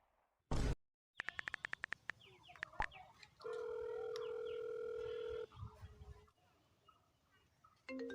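A phone rings with a loud burst followed by a rapid series of sharp electronic pulses, then a long steady tone, in an otherwise quiet room with faint background noise.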